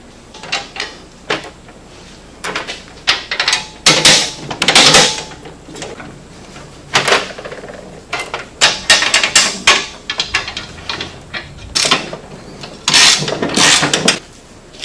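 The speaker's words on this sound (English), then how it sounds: "put a nut on this bolt I done had in there. Then we can slide our other three bolts in. And put a nut on them." Nuts go onto bolts as a bumper is assembled on a 2015 900S: irregular bursts of metallic clatter and ratcheting come in quick clusters, close and loud, with no talk.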